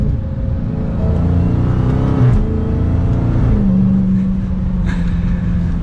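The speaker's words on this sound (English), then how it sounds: "You hear a lot more of that supercharger, which I can't really complain with." Supercharger whine and exhaust rumble of a 2022 Dodge Charger SRT Hellcat Widebody, heard from inside the cabin while driving: a loud, continuous engine drone with shifting pitch and steady road noise throughout.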